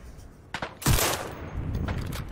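Machine gun fire in the Cuisine Royale video game, a short burst of several close, loud shots in under two seconds with rumbling echo after.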